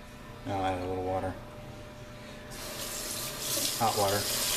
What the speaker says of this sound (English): Now I'll add a little water.